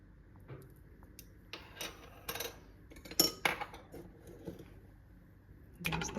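A spoon stirs butter and salt into caramel sauce in a pot, producing intermittent metallic clinks and scrapes against the pot in uneven bursts, close and fairly quiet, with no voices.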